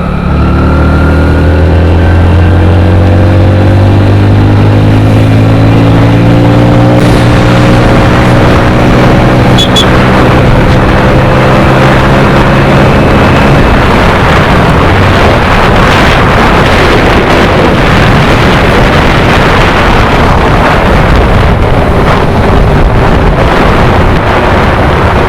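A Hero Splendor Plus motorcycle rides at high speed, around 95 to 100. Its engine whine climbs in pitch, then heavy wind roar buffeting the microphone takes over and drowns the motor.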